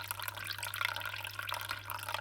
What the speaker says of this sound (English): So pour the liquid in.